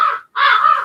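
A crow caws twice from a Halloween haunt prop, two loud, harsh calls close to the listener with a short gap between them.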